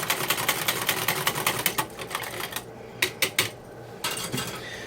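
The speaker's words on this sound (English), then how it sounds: "I am just going to whisk this together until it is very well combined" A whisk beating ravioli sauce in a bowl gives a fast, steady run of close metallic ticks and scrapes, then slows to a few separate louder strokes with short pauses.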